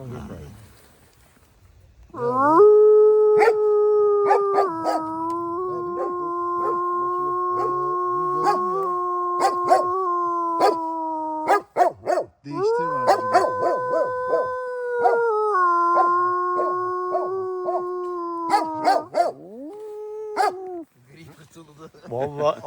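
A person imitates a wolf howl with long, sustained wavering howls lasting over twenty seconds, loud and close, broken by short pauses and sharp clicks or taps throughout.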